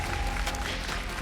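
Crowd at an esports semi-final match cheering and clapping, a short loud burst of applause filling the space without pause.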